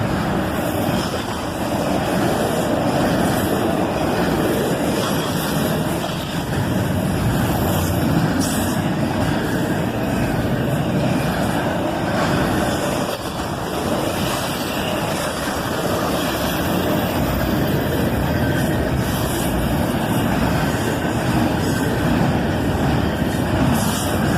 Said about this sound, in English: I love intermodal trains, so it is fitting that this is the last train I caught in Carlisle before fully moving